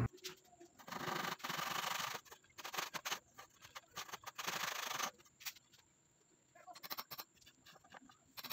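Bursts of rough back-and-forth rasping from a hand saw cutting wood for a homemade bench press, in uneven strokes separated by short pauses, with faint birds in the background.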